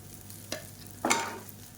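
Idli cubes tossed in a pan with oil and garlic idli podi give two brief, soft scraping sizzles, close by and fairly faint, with quiet pauses around them.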